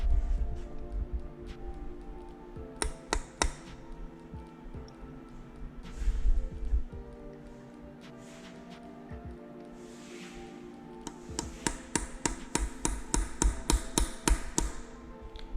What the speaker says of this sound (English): I'm going to get a punch and just knock this down